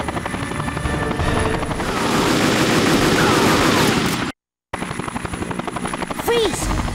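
A news helicopter in the Dead to Rights video game hovers close by, its loud, steady rotor chop filling the scene with bursts of gunfire and shouting voices mixed in; the sound cuts out briefly, then returns.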